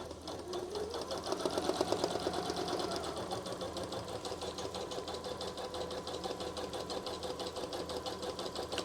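A Janome Memory Craft 1000 embroidery machine stitches steadily nearby, a rapid continuous mechanical whir with fast needle ticking that holds an even, moderately loud level throughout.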